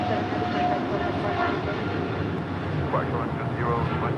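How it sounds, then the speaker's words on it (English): A Latam Airlines Boeing 777-300ER departs LAX as a loud, steady jet roar fills the scene, with faint radio chatter or voices mixed in. "That is Latam Airlines 8087 departing to Sao Paulo on a 777-300ER"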